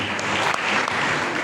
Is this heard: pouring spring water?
no